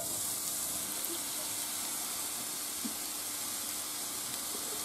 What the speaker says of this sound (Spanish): Ya se ha calentado el aceite y ahora echamos la cebolla